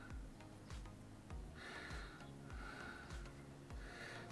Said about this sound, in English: a chuffing, it is my wee dog on the bed behind me